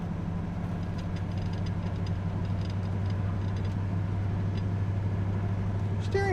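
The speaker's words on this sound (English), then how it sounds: "Drive down the road in our El Camino." A 1968 Chevrolet El Camino's engine while driving on the road, a steady low rumble and drone throughout with a faint voice underneath.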